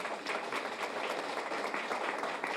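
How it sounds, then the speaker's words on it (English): Graduation audience applauding at a nursing (CRNP) ceremony in Houston: dense, steady clapping from a large crowd, sustained and even throughout with no voices over it. "I would like us to please give him more applause"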